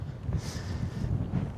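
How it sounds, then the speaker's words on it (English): Steady wind buffeting a microphone, a low rumbling roar that swells and dips without pause and with no voices. "So it's windy."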